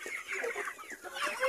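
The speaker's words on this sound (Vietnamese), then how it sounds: "Tiếp tục cho gà nữa nè." Free-range backyard chickens cluck and chatter busily as they are fed soybean pulp or rice, a close, continuous flock of overlapping clucks with no talking.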